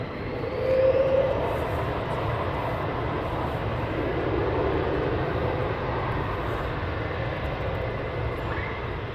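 A military fighter jet departs RAF Lakenheath, a broad, continuous roar that swells early and holds steady throughout, heard from a distance outdoors with no voices.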